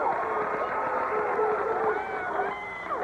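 A high school basketball crowd in a 1987–88 Gate City vs Grundy regional quarterfinal gym at Abingdon rises to its feet, a steady mass of cheering and babble filling the arena while a commentator talks over it.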